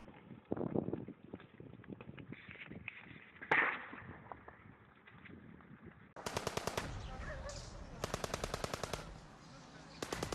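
Rapid bursts of automatic gunfire crackle loudly, with earlier scattered shots and a sharp bang, continuing in fast rhythmic volleys, near Ukraine's western border.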